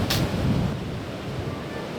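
Waves break on a powerful shorebreak where skimboarders ride, a loud crash at the start settling into a steady roaring wash of surf and wind.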